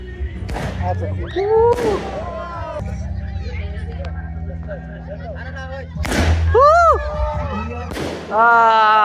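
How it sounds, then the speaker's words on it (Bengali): Fireworks at the opening ceremony of an Eid night cricket tournament, with loud booming bursts and crackle near the start and again around six and eight seconds, over a crowd's babble and rising whistling tones. "এখন আতশবাজি শুরু করা হবে"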